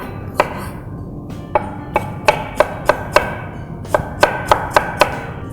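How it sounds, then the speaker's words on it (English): Knife strikes a cutting board while peeled, seedless jackfruit is chopped: about twelve sharp, close chops in irregular bursts over a low steady background hum. "we need to chop the jackfruit"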